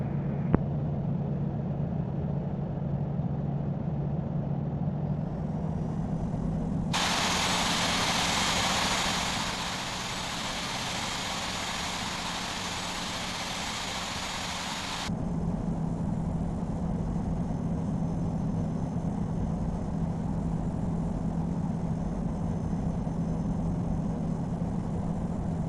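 Steady jet engine drone of an Air Canada airliner taxiing toward runway 31 left at John F. Kennedy airport in the Infinite Flight simulator, a continuous hum with a bright hiss swelling for several seconds midway.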